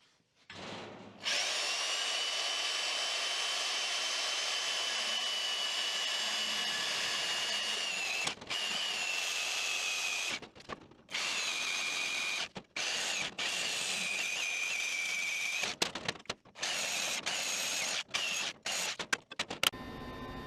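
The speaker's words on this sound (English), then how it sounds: "and I'll use the portaband to do that" A portable band saw cutting metal pieces for an equipment trailer, a loud continuous high-pitched whine and grind broken by several brief stops and restarts, close by with no talking.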